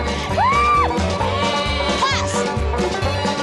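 Sheep bleat loudly and close by during a chaotic round-up on a reality competition, one clear wavering call near the start and another shorter one later, over rumbling movement and background noise.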